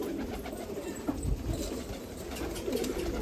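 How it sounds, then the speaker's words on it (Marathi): A domestic house pigeon coos in low, muffled murmurs under a steady background rumble, several soft rolling calls spread over a few seconds. "ये घर का कबूतर है"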